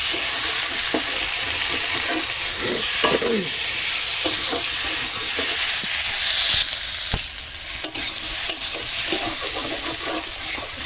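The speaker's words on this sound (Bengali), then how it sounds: "এবার আদা জিরে আর শুকনো লঙ্কা বাটা দিয়ে দিলাম এটা কষিয়ে নেব" Ginger, cumin and dried chili paste frying in a pan in a village kitchen, giving a steady loud sizzle with occasional stirring scrapes and clinks throughout.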